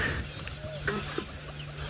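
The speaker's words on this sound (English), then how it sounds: "you can hear the birds are going absolutely crazy" Birds call out in agitated alarm in the bush during a sunrise safari drive, brief excited clucking cries heard close by under quiet background noise, with a voice speaking over them.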